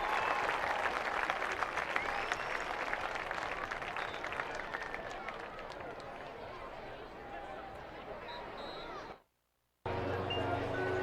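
Crowd applause for the Penn-Trafford Warriors, the 5A high school state champions, at a football game, a steady broad roar of clapping that carries on for several seconds before cutting out briefly.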